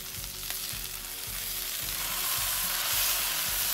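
A pizza cheeseburger sizzles on a Pit Boss Sierra flat-top griddle, a steady bright frying hiss that grows slightly louder, with soft rhythmic scraping pulses underneath.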